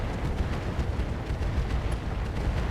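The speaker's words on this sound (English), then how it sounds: "A couple of missiles hitting there." Missile impacts on a mech in RogueTech, a BattleTech game, a dense rumbling barrage of muffled booms rolling continuously at steady loudness with no break.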